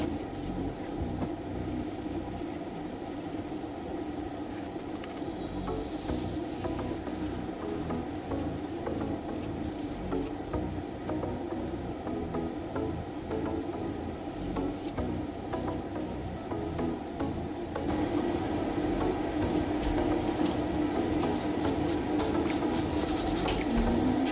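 Steady rasping strokes of a nail file shaping sculpted gel stiletto nails, continuous and close, running without pause and growing slightly louder toward the end, with no talking.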